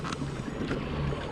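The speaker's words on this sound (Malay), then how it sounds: "Angin kuat." Strong wind gusting over a lake during kayak fishing, a steady rushing buffet with low rumble across the microphone, continuous and fairly loud with no voices.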